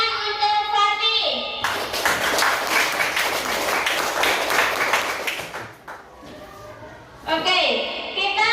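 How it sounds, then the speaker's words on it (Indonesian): A classroom group claps for a student in the middle of a lesson, a burst of mixed clapping that rises quickly, holds for about four seconds, then stops, with a voice speaking before and after. "kita beri tepuk tangan untuk Fatih"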